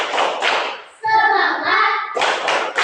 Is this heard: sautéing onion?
no